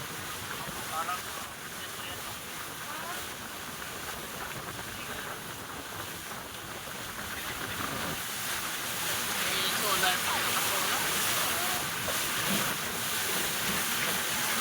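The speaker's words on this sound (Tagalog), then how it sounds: "Laki ng alon." Big waves wash along Brunei's longest river, a broad hiss of water mixed with wind buffeting the microphone that swells louder toward the end, with faint voices in the background.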